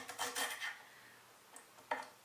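A knife chops fresh ginger on a cutting board, making a quick cluster of soft, dull taps and scrapes, then a pause and one more light chop. The sound is quiet and close, with no talking.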